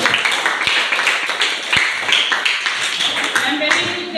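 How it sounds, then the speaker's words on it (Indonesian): An audience claps in applause for a presenting group at a classroom presentation, a steady dense patter of hands lasting several seconds, with voices mixed in. "Memberikan aplaus untuk kelompok"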